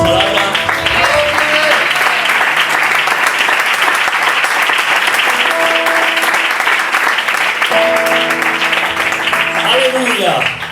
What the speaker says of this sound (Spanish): Un aplauso a su palabra.